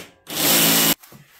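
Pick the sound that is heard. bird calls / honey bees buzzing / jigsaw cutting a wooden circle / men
jigsaw cutting a wooden circle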